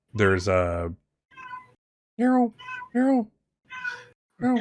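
A person imitates a cat, giving several drawn-out meows in short bursts with pauses between, close and fairly loud, with no other talk.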